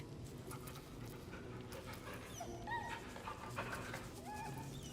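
In Baldur's Gate 3, a dog pants steadily and whimpers in thin, rising whines, a close, continuous sound of moderate loudness.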